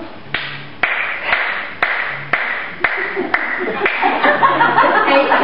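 Sharp hand claps ring out at a steady rhythm during a line dance tag, about seven crisp claps spaced roughly half a second apart, with light chuckling and murmuring underneath.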